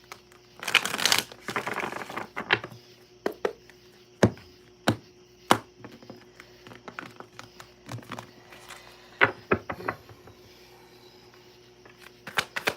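Tarot cards riffled and shuffled in short bursts, crisp flutters followed by scattered taps and soft knocks, close and fairly quiet.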